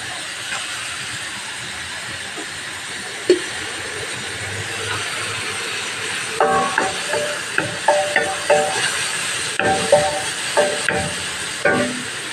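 Garlic sautés with plenty of onions in a hot pan, a steady hiss of frying with a run of light clicking scrapes from stirring in the second half.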